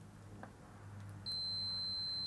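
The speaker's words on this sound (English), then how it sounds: "I've got my multimeter here. I've got it set up for continuity mode. So you can hear we get an audible beep." A multimeter set to continuity mode gives a steady, high electronic beep that starts partway through and holds as its probes bridge the two tips of a homemade instrument cable. The room is quiet otherwise.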